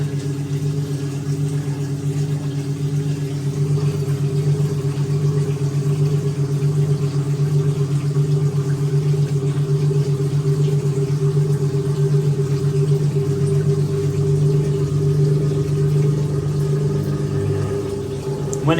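A 1958 Hotpoint Empress washing machine pumping out very dirty water: a steady, motor-driven hum with strong low tonal drone, continuous and unchanging, close up, with a slight change at the very end.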